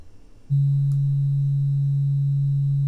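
A steady sine-like tone from a modular synthesizer with a fast envelope attack, switching on abruptly after a short pause and then holding at one low pitch, loud and clean with no talk.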